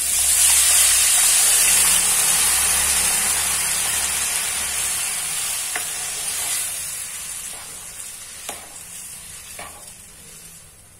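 Dal roasting in a hot pan, with a loud, steady sizzle and hiss up close, plus occasional scraping stir strokes as the sizzle slowly fades over several seconds.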